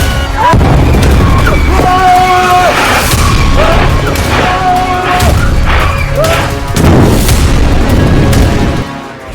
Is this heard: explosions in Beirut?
yes